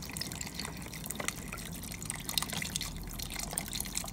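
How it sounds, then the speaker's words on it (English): Broth pours from a container into an Instant Pot for minestrone soup, making a steady, soft liquid splashing and dripping sound that runs throughout at close range. "We're just going to pour this whole container in here."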